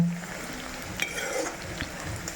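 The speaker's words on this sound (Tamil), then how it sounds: "நல்ல சூப்பராக வெந்துட்டுருக்கு பாருங்கள் எண்ணெயில்" Amla (gooseberry) pickle frying in oil, a soft continuous sizzle broken by a few light clinks and scraping stirs of a utensil in the pan, close and moderately quiet, with no voices.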